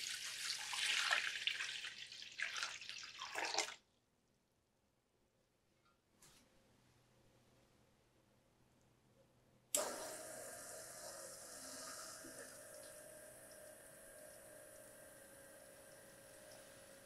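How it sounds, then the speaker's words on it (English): Flood water pours in during a building flood-sensor demonstration and water pumps engage. A loud splashing pour cuts off into near silence, then a pump starts abruptly and runs as a steady hum with a faint liquid wash. "We'll pour in the flood water. We should see the pumps engage."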